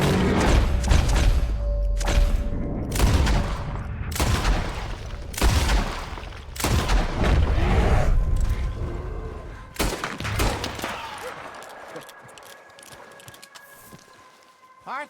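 Gunshots fired at a bear in Red Dead Redemption 2: a rapid series of loud, booming shots with heavy thuds, crowded together at first, then thinning out as the noise fades, with voices talking over them.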